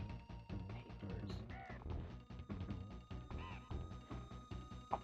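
A bird boss in the Donkey Kong Country video game gives repeated harsh, crow-like caws over a steady game soundtrack, with several loud calls spread across the passage.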